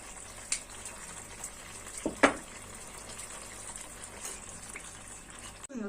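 A tea glass of water goes into a pot of bulgur pilaf with peppers, making a brief, close splash and gush midway, with faint bubbling and kitchen sounds around it.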